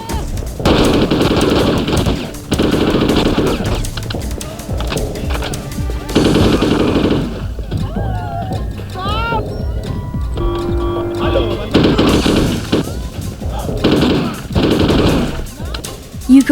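Dense bursts of rapid gunfire from a PS2 shooter game, repeating in loud stretches with a narrator talking over much of it and brief game effects in the quieter middle.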